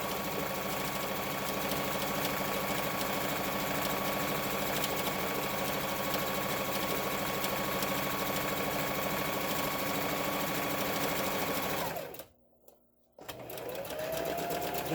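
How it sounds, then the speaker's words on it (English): A sewing machine stitches down the hem of a drawstring bag with a steady, continuous mechanical whir that stops briefly near the end and then starts again. "All right, so now we're going to sew your hem down."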